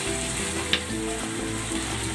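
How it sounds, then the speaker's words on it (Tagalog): Reserved marinade poured onto pork ribs in a hot pan, sizzling steadily and loudly with bubbling crackle throughout. "Then, ibubuhos ko dito yung tinabi nating pinagbabaran."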